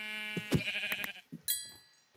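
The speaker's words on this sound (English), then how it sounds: "Sheep! Sheep!" Sheep in a survival video game bleat in several short wavering calls, close and clear, with a higher bleat near the end that fades out.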